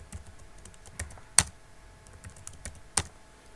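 Keys on a computer keyboard are pressed to enter a password while configuring SSH on a Cisco router: sparse, close clicks with a couple of sharper, louder keystrokes standing out.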